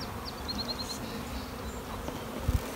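Honey bees buzz around an open hive during a beekeeping hive inspection, a steady dense hum filling the air throughout, with a couple of faint thumps near the end and no speech.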